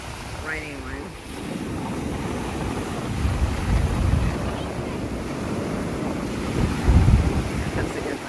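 Surf rolling in and wind buffeting the microphone on a beach at Indian Shores, with a steady wash of breaking waves that swells louder near the middle and end, plus faint voices in the background.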